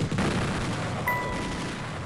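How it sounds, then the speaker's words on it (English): AK assault rifle gunfire plays as a sound effect, a dense, loud crackle of rapid shots packed close together throughout. "What is an AK assault rifle with an extended modular scope"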